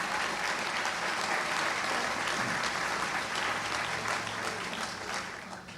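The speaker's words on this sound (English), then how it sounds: "so we can applaud for that." An audience at a jazz poetry concert applauds warmly, a dense, steady wash of clapping at full strength that fades slightly toward the end.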